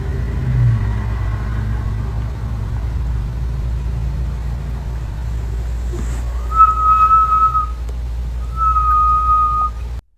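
Repeated thin whistles drifting from the woods, two sustained tones heard late in the clip over a low engine-like rumble, moderately distant.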